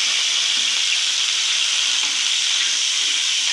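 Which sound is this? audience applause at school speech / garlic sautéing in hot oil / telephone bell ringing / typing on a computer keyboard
garlic sautéing in hot oil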